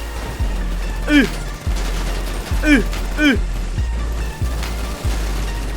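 Gunfire from a GTA V roleplay session cracks out as several sharp shots at irregular intervals over a constant low rumble, with voices calling out between and over the shots.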